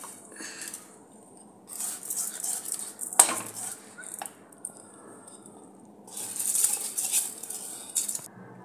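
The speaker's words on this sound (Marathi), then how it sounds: "तांदूळ असं घालत आहे।" Rice goes into a pot of water for pulao with soft, wet splashes and scraping clinks of a metal utensil in two short bursts, close and fairly quiet, with nothing spoken.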